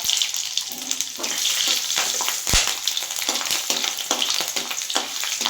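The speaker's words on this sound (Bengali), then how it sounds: "তেলটাও গরম হয়ে গেছে তো এবার আমি এখানে এক চামচ পাঁচ ফোড়ন দিয়ে দিলাম আর দুটো চেরা কাঁচা লঙ্কা দিয়ে দিলাম" Panch phoron and two slit green chilies crackle in hot oil, giving a loud, continuous close sizzle with small spitting pops and one sharp clank near the middle.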